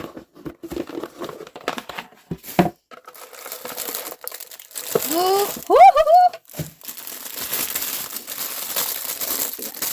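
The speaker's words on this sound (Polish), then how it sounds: "Tu się ta folia otwiera." Plastic foil wrapping on a subscription book box is crinkled and torn open during an unboxing, with a crisp crackling burst in the middle, scattered rustles around it, and a person speaking over parts of it.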